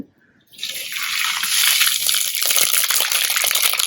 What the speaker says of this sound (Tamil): எண்ணெய் காஞ்சிருச்சு இதில் இதில் பார்த்தீங்கன்னா நான் வந்து வெங்காயம் பூண்டு உரித்து வச்சுருக்கேன் இதில் முதல்ல கடுகு